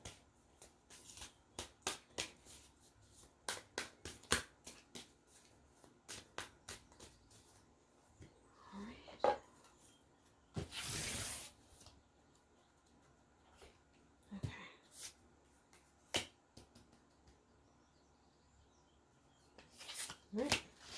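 A deck of animal oracle cards being shuffled up close in a quiet room, with scattered crisp card snaps and riffles, a longer rustling burst in the middle, and soft speech between them.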